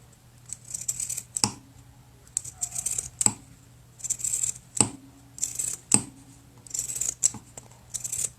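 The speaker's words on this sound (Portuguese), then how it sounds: "Mas como eu tenho tesoura de picote, eu vou usar aqui, é mais prático." Pinking shears snip through fabric and coffee filter material while a face mask pattern is cut out, giving a quiet, close series of crisp crunching snips in irregular bursts with brief pauses and no talk.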